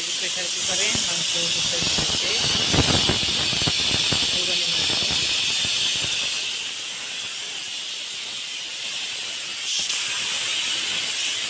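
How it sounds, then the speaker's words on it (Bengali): A pressure cooker cooking meat hisses out steam in a home kitchen on a rainy Eid day, a steady loud high hiss running throughout, with voices and some clatter over it in the first half. "প্রেশার কুকারে মাংস"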